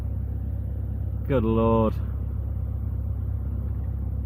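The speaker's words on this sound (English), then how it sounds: "now there's a car coming" A car on a narrow country lane, a low engine rumble under a steady drone, with a person speaking over it.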